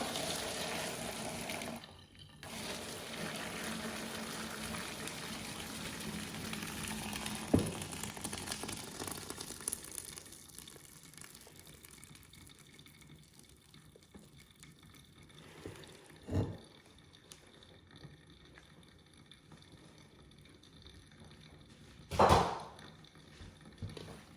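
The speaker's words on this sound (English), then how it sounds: "So we're straining the rice now." Boiled rice being strained in a home kitchen, water pouring and draining with a rushing hiss that fades after a few seconds, followed by quieter trickling and a few sharp clunks of the pot or strainer.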